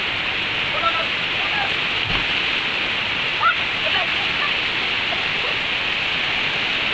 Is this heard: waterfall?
yes